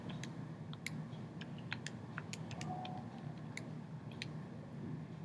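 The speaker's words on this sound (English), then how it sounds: "If you type in the problem, hit enter, and then type in your answer" Typing on a computer keyboard, with scattered sharp key clicks in uneven bursts over a quiet background hum, faint and close.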